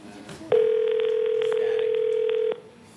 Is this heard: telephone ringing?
yes